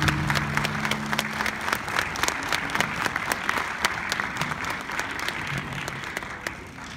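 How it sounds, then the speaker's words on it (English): An audience applauds Senator Paul Pensy at a state legislature event, with steady, dense clapping from a crowd filling the room, sharp individual claps standing out near the front. "you all can please give Senator Paul Pensy a round of applause"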